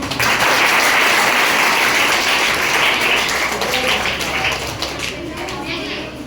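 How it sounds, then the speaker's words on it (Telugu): A school audience at a high school memorial event applauds students with sustained, crowded clapping that stays strong throughout and eases slightly toward the end, as children's voices chatter underneath. "వీళ్ళందరికీ చప్పట్లు పట్టుండి"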